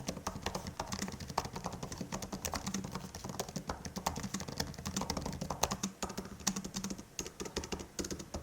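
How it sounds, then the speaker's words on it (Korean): Close, continuous tapping on the keyboard of a Samsung Galaxy Book3 Pro laptop, a dense, quick clatter of light key presses without pause and with no talk. "키보드의 키감 같은 경우 그냥 뭐 노트북이네? 그냥 딱 이런 느낌만 들고 타건 소리를 일단 한번 들어보실까요?"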